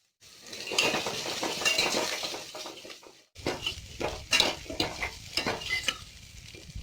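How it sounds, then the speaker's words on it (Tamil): Steady sizzling of onions sautéing in oil in a pan, with stirring scrapes and occasional utensil clinks against the metal, close and moderately loud. "வெங்காயம் நல்லா வதங்கிடுச்சு."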